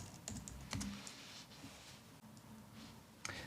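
Quick, light keystrokes tap out a web address on a computer keyboard, close and fairly quiet, in short irregular bursts with brief pauses.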